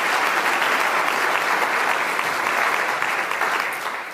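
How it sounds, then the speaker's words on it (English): At a Teacher of the Year ceremony, a crowd gives past winners sustained, even applause, loud and steady throughout before easing slightly at the end. "let's give all of them a round of applause"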